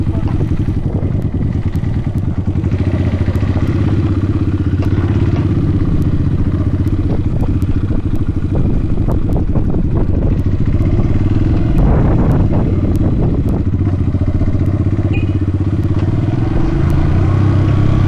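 An off-road motorcycle descends a hill in first gear, its engine running steadily and loud throughout at low revs, with clattering from the bike and trail and a few brief voices underneath.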